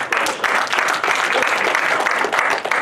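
At a banquet, the audience claps in a thick, continuous burst with slight surges and dips, many hands at once, loud and close with no speech over it.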